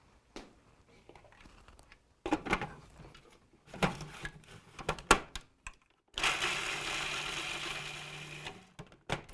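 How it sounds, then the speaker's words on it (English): Raw pecans being ground fine in a kitchen appliance for a pie crust, heard as short bursts of whirring and grinding with pauses between, then one longer run near the end, close and fairly quiet. "I usually grind my pecans first until they're nice and fine"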